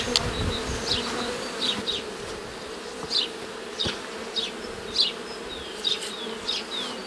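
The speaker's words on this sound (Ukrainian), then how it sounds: "струшую ці бжоли" Honeybees buzzing around a hive frame in an Alpine-style hive as they are shaken off, a dense steady swarm drone with individual bees whining past close to the microphone.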